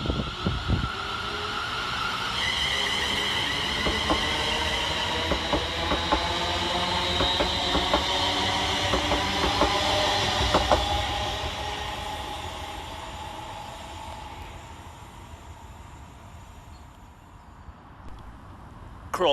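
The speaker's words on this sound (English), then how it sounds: "Next for departure is 380110, working the 1228 Scotrail service from Glasgow Central to Ardrossan Harbour." A Scotrail class 380 electric train departs Paisley Gilmour Street station, its motors whining upward in pitch over a steady rolling rumble with clicking wheel joints, then slowly fading as it pulls away.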